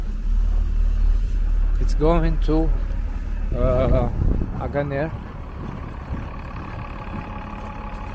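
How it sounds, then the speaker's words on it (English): City bus on the streets of Norilsk in Siberia, Russia, a steady low engine rumble heard under someone talking close by. "Now this bus,"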